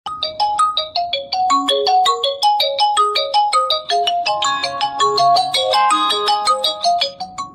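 A loud electronic phone ringtone plays a bright, repeating melody of quick synthesized notes, alone and continuous.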